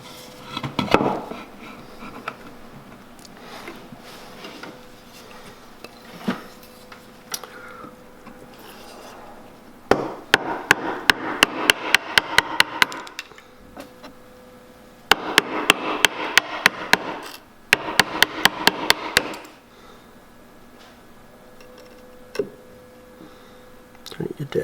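Chisel driven into a knife cut in wood while making a shooting board: two runs of rapid, sharp mallet taps on the handle, with someone talking at times around them.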